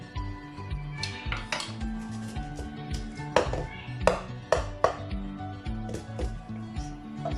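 A cooking pot being covered with its metal lid while making an eggless banana cake on the stove: a series of close metallic clinks and taps, some ringing briefly, spread unevenly over a few seconds.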